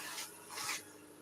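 A woodturning gouge bevel rubs against a spinning wooden spindle on a lathe, giving soft, faint scraping swishes, two brief passes close by with no voices.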